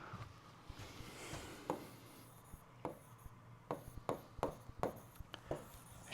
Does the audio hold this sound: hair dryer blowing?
no